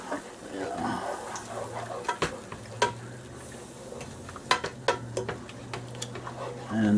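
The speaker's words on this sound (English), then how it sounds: "while we're stirring our roux" A roux stirred in a pan with a gentle, steady sizzle under repeated sharp taps and scrapes of the utensil against the pan, close by with a low hum in the background.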